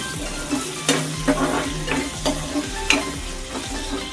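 Softened tomato pieces stirred in a pan with a series of scraping and clinking strokes of a spoon over a faint steady sizzle.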